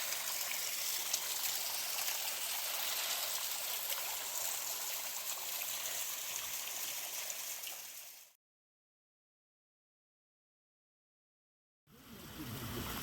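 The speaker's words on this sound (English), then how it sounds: "that is a beautiful little waterfall" A small waterfall in a green, shaded spot flows with a steady rushing hiss for about eight seconds, then drops to silence before the water sound returns.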